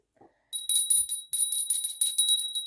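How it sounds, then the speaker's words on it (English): A small bell is struck repeatedly, giving bright, high ringing tones that overlap and sustain in a quiet room, loud and close, with a faint soft knock just before. "I will ring the bell here actually to clear the energy"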